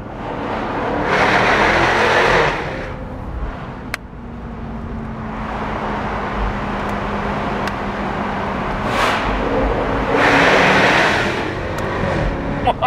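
A Jaguar F-Type R Dynamic roadster with an automatic gearbox drives hard, its engine surging loud, dropping back as it shifts and then climbing again, heard close and continuous with a couple of sharp clicks in between.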